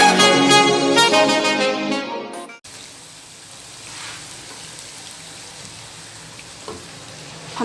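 Onions for a seekh kabab karahi frying in hot oil, opening with a loud tonal clatter before settling into a steady, close sizzle that continues alone to the end.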